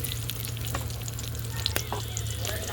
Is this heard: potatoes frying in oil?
yes